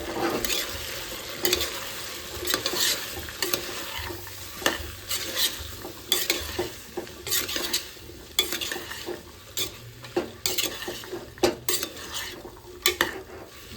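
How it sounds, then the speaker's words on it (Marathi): Vegetables for veg pulao sautéed in a pan, with a soft frying sizzle under frequent sharp clinks and scrapes of a metal spoon stirring against the pan, close and irregular. "त्या प्रॉपर अशा परतून घेऊयात"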